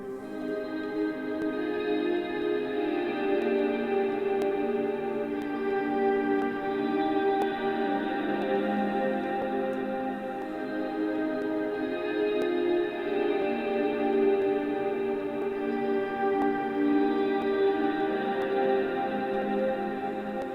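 Sustained guitar chords wash through a heavy Valhalla Supermassive reverb, forming a dense, smeared tonal texture that stays steady and moderately loud throughout with no break.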